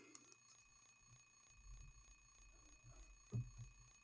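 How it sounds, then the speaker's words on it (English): An alarm clock rings faintly in Silent Hill 3, a thin steady tone that sits low in the mix beneath muffled game ambience. "Will you turn off the alarm?"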